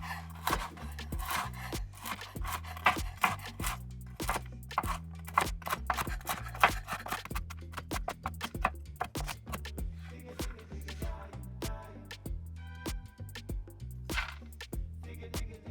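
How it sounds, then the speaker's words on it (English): Pecans being roughly chopped with a knife on a cutting board: a rapid, uneven string of sharp taps and crunches, close and fairly quiet, running continuously without talk. "You're going to want to roughly chop them up."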